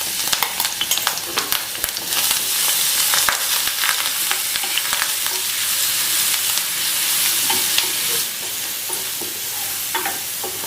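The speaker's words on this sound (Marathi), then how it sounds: "तेलामध्ये मस्त फोडणी परतून घ्यायची" Crushed green chilli and garlic frying as a tempering in a ladleful of hot oil, a loud continuous sizzle with scraping stirs of a spoon through the pan.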